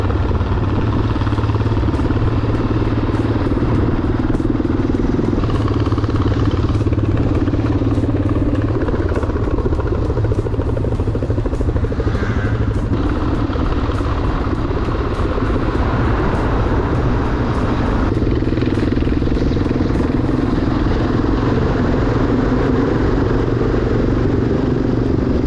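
Motorcycles riding along Italian roads toward Venice, a continuous loud engine drone mixed with heavy wind buffeting, steady and close throughout with no pauses.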